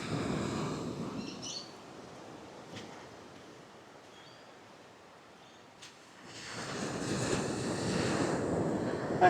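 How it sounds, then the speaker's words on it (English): Surf washing ashore at Kewarra Beach near Cairns on a grey, miserable day, a steady broadband wash with gusty wind buffeting the microphone, easing in the middle then swelling louder again toward the end. "Kewarra Beach on a miserable day"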